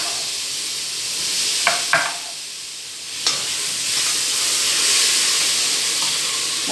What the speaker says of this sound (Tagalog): Bati natin ang tomato.